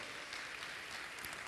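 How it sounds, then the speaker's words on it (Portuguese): A church congregation applauds for a brief moment, a dense wash of many clapping hands, fairly faint and distant, with no break in the sound. "Aplauda o Senhor, bem forte."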